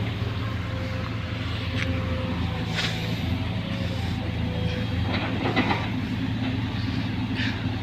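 A train rolls along the rails with a continuous low rumble and scattered clacks and squeals, steady and fairly close over several seconds.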